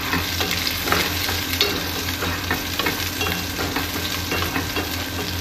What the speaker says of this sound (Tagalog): Gigisa ko na.